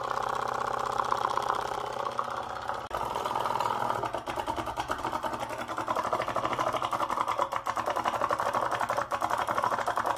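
A small homemade 3-volt aquarium oxygen pump motor runs continuously, giving a steady buzzing, rattling whir with a rapid mechanical chatter, close and moderately loud, without any speech.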